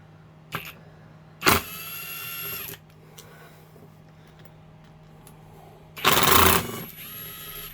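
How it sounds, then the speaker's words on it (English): A cordless impact driver backs tight screws out of a Harbor Freight Bauer high-speed 7-inch grinder, sounding as two loud, close whirring bursts with a short tap before them, separated by several seconds of quiet. "These screws are like really tight, surprisingly enough. Actually need to impact them out."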